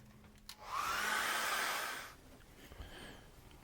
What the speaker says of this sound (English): So I'm going to hit that with a hairdryer.